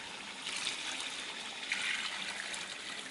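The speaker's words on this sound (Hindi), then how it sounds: "तो इसमें हम एक जग जो है ना, एक पूरा जग पानी का ऐड करते हैं।" A full jug of water poured into a cooking pot, a continuous splashing trickle lasting a few seconds, close and alone.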